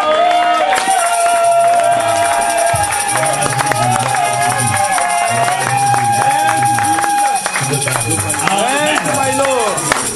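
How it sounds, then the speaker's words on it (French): Church congregation cheering loudly for the Lord Jesus, a dense, continuous roar of crowd shouting and whooping with shifting voices and music-like tones, loud and close throughout. "nous acclamons très fort le Seigneur Jésus"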